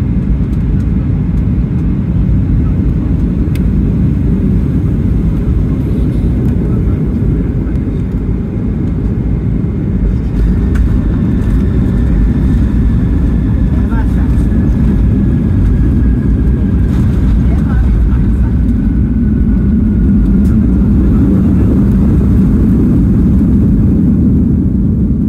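Steady, loud low-pitched engine drone and cabin rumble of an airliner in flight, continuous throughout with a faint higher whine above it.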